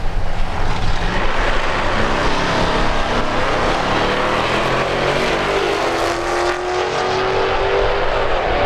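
A Hellcat launching down the drag strip at a Midwest drag racing event: a loud, sustained engine roar with rising pitch as the car pulls away, broad and steady throughout with no talk.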